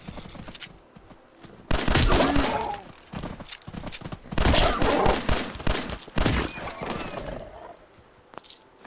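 Rapid bursts of gunfire in Fallout 4 are aimed at a Radstag and come in several loud clusters separated by quieter gaps. The game's ambient sounds continue underneath.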